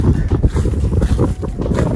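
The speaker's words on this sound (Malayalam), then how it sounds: "നല്ല കാറ്റുണ്ട്" Strong wind buffets the microphone with a steady, loud rumbling roar, gusting without pause.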